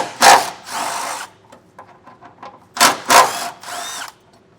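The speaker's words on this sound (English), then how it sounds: "I got a 13mm socket, and I removed this bracket that is housing our brake" A power tool with a 13mm socket spins out the brake line bracket bolts on a 2021 Chevrolet. Loud, close whirring bursts come in two pairs, with faint clinks and rattles in between.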